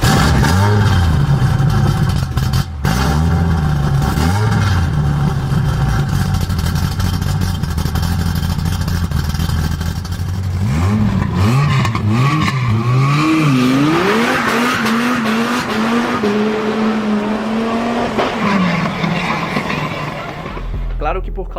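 A Dodge Viper's 8.4-litre twin-turbo V10 revs loudly, holding a dense rumbling drone before swooping up and down through several sharp rising and falling revs.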